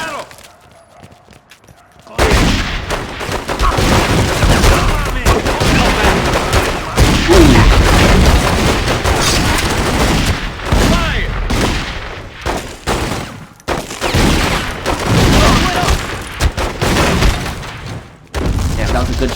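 Gunshots ring out in a scene from The Godfather Part II, a loud sustained barrage of rapid bangs and booms with intermittent pauses, mixed under shouting voices.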